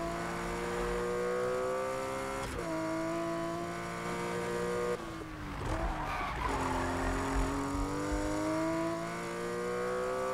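A race car engine in the video game Need for Speed (2015) roars steadily with shifting pitch, then tires skid and squeal midway before the engine revs climb again; no talking.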